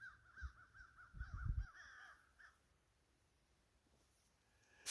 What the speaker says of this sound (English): Oh, all them crows.